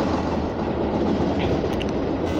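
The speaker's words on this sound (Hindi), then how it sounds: "तो दोस्तों ये ट्रैक साउंड आप बताना कैसे सुनाई दे रहे हैं" Steady rail clatter and rumble from a train in Indian Train Simulator on the Annkonam to Arakkonam route, loud and continuous with no gaps, plus faint high clicks near the end.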